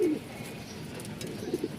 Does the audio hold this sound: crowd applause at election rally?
no